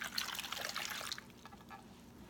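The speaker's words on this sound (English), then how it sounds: "I'm going to add about 1 cup of water." Water, about a cup, is poured into a pot of potatoes for garlic potatoes, giving a bright splashing trickle for roughly a second before fading into quieter drips; no talking.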